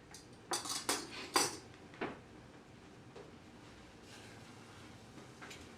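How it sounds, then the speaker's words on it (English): A utensil scrapes and knocks against a pot holding thick poppyseed filling on the stove, several close clinks and scrapes in the first two seconds, then quieter background with faint stirring. "So I'm going to give it a stir."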